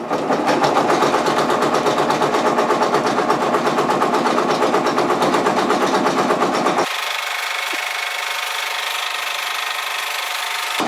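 A Brother PRS100 embroidery machine stitches a logo directly onto a Columbia jacket at 500 stitches per minute. Its loud, steady, rapid mechanical chatter runs close and continuous, shifting to a thinner tone partway through.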